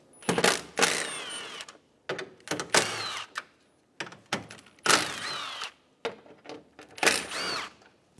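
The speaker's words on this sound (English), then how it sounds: "remove the four 10mm bolts" A socket wrench works 10mm bolts loose on a Chevrolet Sonic, giving repeated bursts of sharp ratcheting clicks in a start-stop rhythm, close and crisp with brief silent gaps between.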